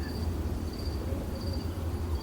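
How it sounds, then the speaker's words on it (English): Crickets chirp steadily in an outdoor evening setting, a continuous high trilling pulse over a low ambient rumble, with no voices. "Crickets begin to chirp."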